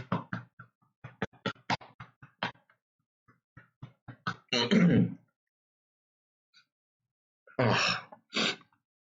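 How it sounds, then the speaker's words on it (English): A few harsh, bursty coughs, close up, with short pauses in between, following a stretch of quiet throat noises and breaths. "hopefully I can stop coughing"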